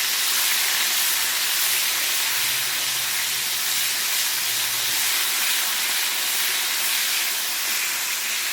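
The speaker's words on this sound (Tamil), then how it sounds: "இப்போ இஞ்சி பூண்டு போட்டுக்கிறேன்." Ginger and garlic frying in hot oil, a loud, continuous bright sizzle and hiss held steady throughout, close and without talk.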